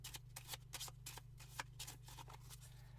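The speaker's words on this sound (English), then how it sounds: "give them a shuffle." A deck of twelve mission and movement cards for the logic puzzle game ROVE gets shuffled, giving a quiet, rapid papery flutter of ticks over a low steady hum.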